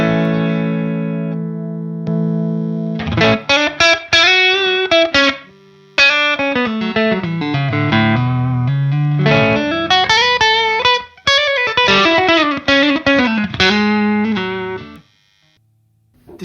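An electric guitar played through a King of Tone overdrive set to distortion, with loud, saturated chords and riffs, bursts of sustained notes and brief pauses, close and clear, fading out at the end.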